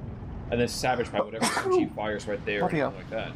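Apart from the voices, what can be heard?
sneeze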